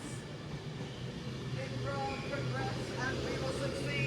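An Avanti West Coast Class 390 electric train pulls away from Rugby station toward London Euston, a steady low rumble and hum under faint background voices.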